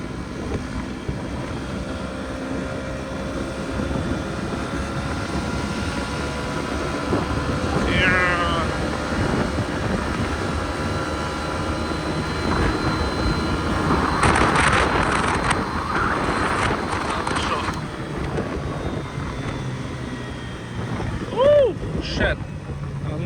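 Fuel-injected four-stroke Suzuki Address V50 G scooter engine running steadily while cruising at around 35-40, a low, even drone under constant wind rush, with a few brief louder gusts.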